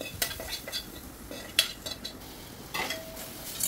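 Cooked ivy gourd tossed with garam masala in a pan, a spoon scraping and clinking against the metal in quick irregular strokes, close up with no talking.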